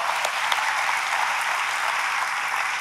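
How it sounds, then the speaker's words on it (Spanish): Church congregation applauding during a sermon, a steady wash of clapping from a crowd, even and sustained throughout the short stretch with no voices over it. "Un aplauso a todos ustedes."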